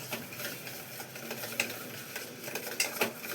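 A spoon stirs salt into curd, with fennel already added, for curd idli; a brief wet mixing sound, close and soft, with light scrapes of the utensil against the bowl and no talking.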